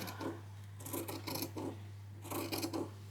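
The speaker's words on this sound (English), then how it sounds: "I'm going to come across now and just use my scissors to cut along that line." Scissors cutting along a marked line on fabric, a series of soft close snips and rasping strokes in quiet irregular bursts over a low steady hum.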